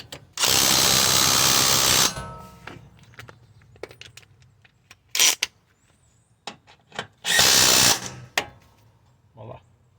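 A power tool tightens brake line and ABS line bolts on a 2009 Toyota Corolla during front strut and rotor work, with two loud sustained whirring bursts separated by short clicks and clanks of tools.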